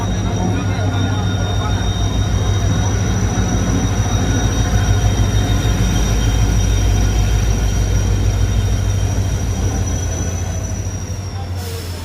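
A train pulls into a railway station on a trip from Assam to Arunachal, with a loud continuous low rumble of wheels, sustained high metallic squeals throughout, and voices murmuring in the background.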